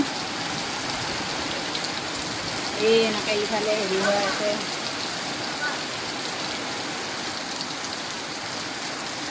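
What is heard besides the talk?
wind and rain storm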